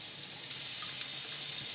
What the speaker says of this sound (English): fill up your bag with water